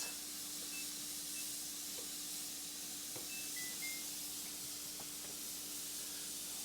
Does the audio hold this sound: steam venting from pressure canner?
yes